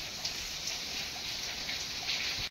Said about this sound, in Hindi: बाहर आ रही बारिश